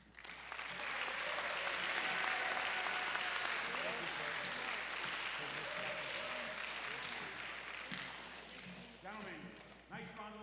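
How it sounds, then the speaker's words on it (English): Sustained audience applause for a guest speaker at a school speaker series, loud and dense from the start and thinning toward the end, with voices talking over it in the final seconds. "Gentlemen, nice round of applause for Reverend Cory Gibson."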